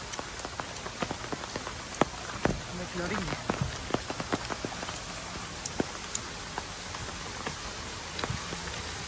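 Rain falls steadily on a surface, with scattered louder drops tapping nearby; a voice speaks briefly under it.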